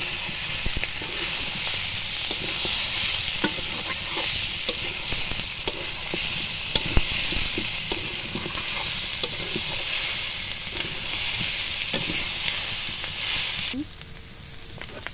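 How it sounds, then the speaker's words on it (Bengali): Fried potato pieces and chicken stirred in a hot pan for a Bengali-style chicken curry, with steady loud sizzling and frying hiss and scraping stir strokes throughout. The sizzle drops off sharply near the end. "এবার দেব ভেজে রাখা আলু, দিয়ে ভালোভাবে এবার কষিয়ে নেব"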